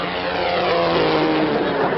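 A steady, loud droning roar of a propeller airplane engine flying past, continuous throughout with no break, in a 1956 Jack Benny comedy broadcast.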